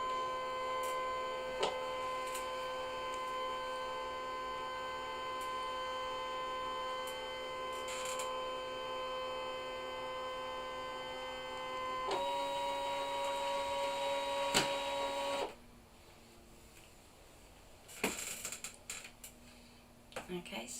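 A craft cutting machine works on card, giving a steady motorised whine and hum with faint ticks, a pitch shift midway, then quieter intermittent clicks and movement near the end.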